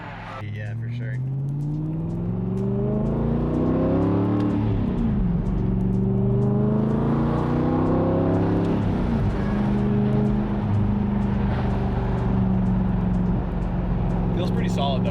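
A supercar with a new exhaust revs hard, its engine climbing and falling in repeated loud pulls with clear rising harmonics, close and dominant throughout.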